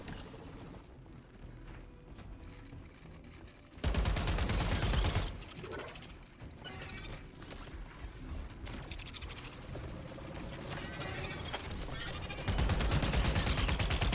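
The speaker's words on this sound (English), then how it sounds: "That shooting there is for another reason that I cannot recall right now." Gunfire in the space-combat video game Wildgate rings out as bursts of rapid shots, with a loud volley around four seconds in and another near the end over a steady background of game noise.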